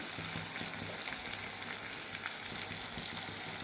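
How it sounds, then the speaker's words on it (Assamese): Meat stir-fries in a hot pan with ginger and garlic, a steady dense sizzle filling the whole stretch, close and even, with faint stirring scrapes underneath. "লাৰি থাকিব লাগিব মাংসখিনি, আদা নহৰু মানে কেঁচা গোন্ধ যোৱালৈ।"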